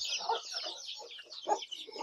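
Hens clucking in a coop during the rainy season, several short overlapping clucks and murmurs close by, with a sharper cluck near the middle and no talking.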